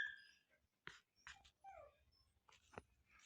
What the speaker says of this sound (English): Don't mind those dog sounds. It's just my dog.